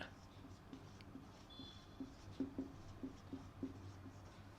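A sale price is written on a board with short scratchy strokes and taps in a quiet room, faint and close, coming in a loose irregular rhythm.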